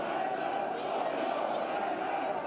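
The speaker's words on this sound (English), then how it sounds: "Excellent crowd today inside the Auk-Stadion." Crowd noise fills a football stadium, the Auk-Stadion, during a women's Frauen Bundesliga match between Wolfsburg and FC Union Berlin, holding as a steady, even roar from the stands at moderate distance.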